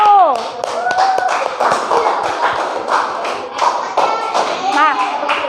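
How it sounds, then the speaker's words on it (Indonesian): A classroom group claps for the first presenting group, with a burst of uneven hand claps and taps close by, mixed with children's chatter and voices throughout. "Tepuk tangan untuk kelompok 1"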